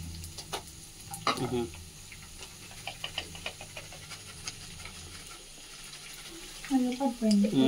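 Rice-based manchurian balls frying in oil give a soft, continuous sizzle with occasional stirring clinks, growing busier toward the end as a voice is heard faintly nearby.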